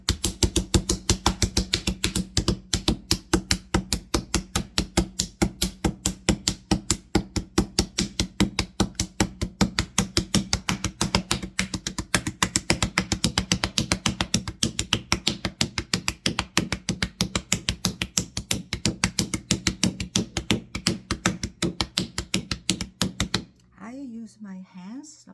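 Hands pat clay in steady, rapid rhythm as a pottery wheel turns slowly while a large plate of over ten inches is being shaped. The close, even taps continue without pause, then stop abruptly near the end.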